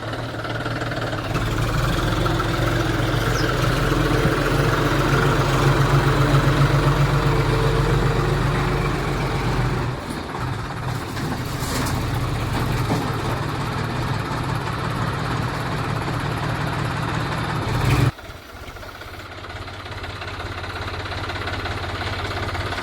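A farm tractor fitted with a front loader idles steadily, a low, continuous diesel rumble with a slight knock, close and loud, briefly dipping twice before settling back into the same drone.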